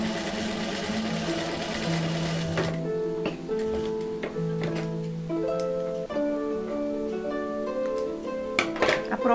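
A sewing machine stitches patchwork fabric, its steady mechanical whirring running loud and continuous throughout, with a bright rush at the start and light ticking as the needle cycles.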